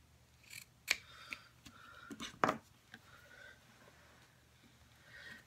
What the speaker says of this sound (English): I'm going to take it and cut it at an angle